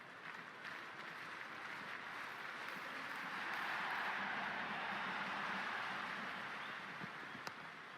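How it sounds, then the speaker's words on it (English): Stadium crowd roaring in the Cricket 26 video game during an India vs South Africa warm-up match, a continuous broad wash of cheering that swells slightly midway and stays at a distance, without any voices on top. "this crowd is already making it hard for me to be heard."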